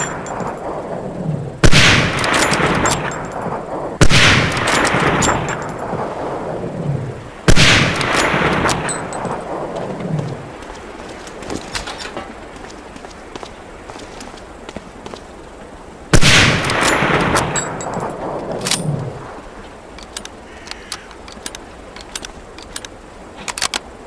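Springfield 03 sniper rifle firing on a training range in Medal of Honor: Allied Assault, four sharp loud shots spaced several seconds apart, each with a long decaying echo, alone without speech.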